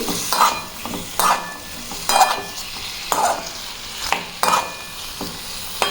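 Tomato peanut chutney fries in oil in a pan while a spoon stirs it, giving regular scraping strokes about once a second over a steady close sizzle.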